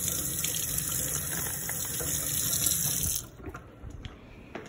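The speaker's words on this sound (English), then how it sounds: "So immediately I'm gonna rinse off the paper filling." Tap water runs steadily into a sink while bags from a Snake River Cichlids fish shipment are rinsed of their paper filling; the flow is close and continuous for about three seconds, then cuts off, leaving only faint handling noises.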